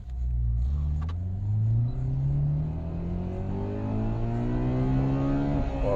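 A Honda Accord Euro R with a K20 engine drives and accelerates, its engine note climbing steadily with a brief drop at a gear change, loud and continuous, with a low road rumble underneath.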